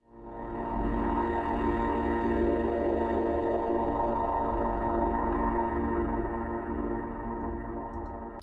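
An atmospheric sample transposed down 24 semitones: a deep, dense drone swells in and holds steady, dark and rumbling with a wash of midrange texture, no voices.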